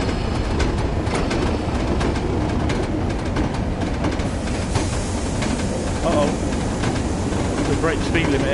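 A simulated train in Train Sim World runs along the rails with a constant rumble, rhythmic clickety-clack of wheels and an occasional hiss, loud and close throughout.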